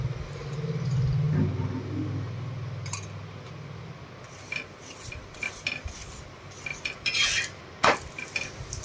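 Spinach thepla cooks on a griddle with added oil, a low sizzling hum early on giving way to scattered scraping and clinking of a spatula turning the flatbread, with a few sharp metallic clicks near the end.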